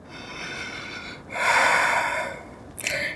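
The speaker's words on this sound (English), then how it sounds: "Continue breathing. Inhale and exhale." Nasal breathing during a yoga balance class: a soft inhale, then a louder and longer exhale, with a short sharp sniff at the end, close up and with no talking.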